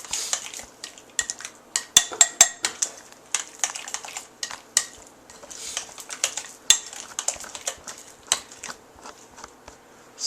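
Artichoke spinach dip with cheese being stirred: quick, irregular clinks and taps of a utensil against a dish, close and crisp, with short pauses and no talking.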